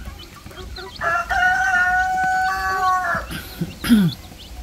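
Rhode Island Red rooster crowing once at close range in a long drawn-out call, followed by a few short clucks and a brief squawk, with faint background farm noise.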